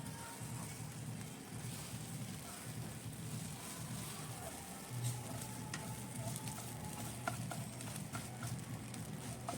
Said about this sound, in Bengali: ভাজা ভাজা করে নিতে হবে।